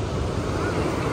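Ocean surf at a beach in Australia, a continuous broadband wash of waves with wind buffeting the microphone, steady and fairly loud over a short stretch.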